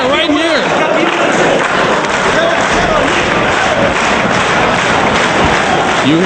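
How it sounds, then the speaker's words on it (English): A wrestling event crowd roars and cheers loudly and continuously, a dense wall of voices with shouts rising over it, alongside a commentator's speech. "You hear the crowd."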